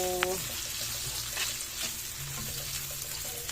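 Longganisa sausage fries in a pan with a steady, close crackling sizzle, while a voice speaks over it and a stray high tone sounds briefly.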